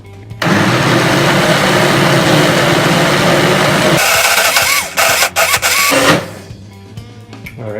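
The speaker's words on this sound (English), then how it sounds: "I'm going to try to stir it now. And let's blend it some more." A blender grinds a thick mixture of brown rice, black beans and quinoa in a loud, steady motor whine. Partway through the pitch drops, then the motor stutters in short bursts before cutting out.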